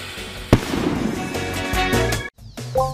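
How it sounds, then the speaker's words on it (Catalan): A firecracker lit with a fuse goes off at a summer festival night: a sharp loud bang, then sustained crackling and popping bursts, a short silence, and further pops, all close and loud with no voices. "La millor manera d'encendre un petard és fer-ho amb una metxa i allunyant-nos a una distància segura."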